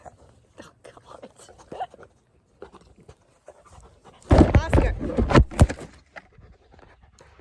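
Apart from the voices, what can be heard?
dog panting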